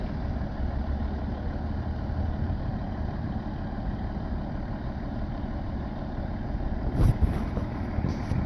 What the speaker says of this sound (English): Fire engine stuck in my backyard.